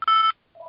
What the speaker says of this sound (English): Is that your phone, Carol?